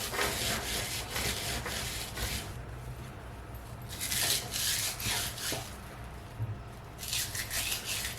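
Dried garden rosemary is rubbed briskly between the palms to strip the leaves, giving close, dry rasping and crackling in repeated bursts with short pauses between them.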